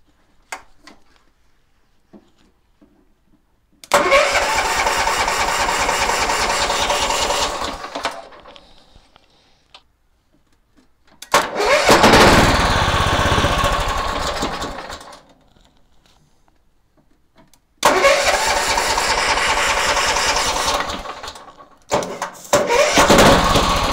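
A riding mower's engine cranks on its electric starter without catching, in three long bursts of a few seconds each, separated by short pauses, with a steady loud whirring at close range.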